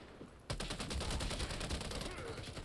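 Gunfire in the video game Warface, a sudden onset of rapid automatic shots that continue as a dense, fast rattle for about two seconds, fairly loud against a quieter background.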